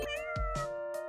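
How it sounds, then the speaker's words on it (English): A video game cat meows steadily over a continuous tonal game-music note, with several short percussive hits around it. The sound is clear and close. "I hope that was our cat giving us a call."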